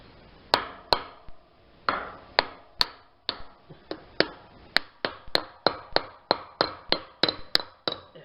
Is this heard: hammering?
yes